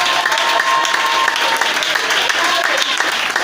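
Church congregation applauding and cheering God during a service, a dense, loud burst of continuous clapping and crowd noise.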